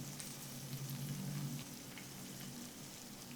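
Potato slices for mojos fry in oil over medium heat, a faint, even hiss of bubbling oil with a slight shift as the slices are turned.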